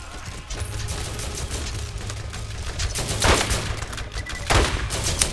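Rapid, sustained gunfire from a sniper rifle in the video game Borderlands, a steady rattling burst with two heavier cracks standing out near the end, loud and close.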